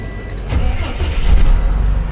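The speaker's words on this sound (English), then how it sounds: "I'm going to turn the vehicle on and I'm going to let the governor build up" A CDL Class A manual truck's engine cranks and starts, rising into a loud, low rumbling idle that holds steady, close by with no talk.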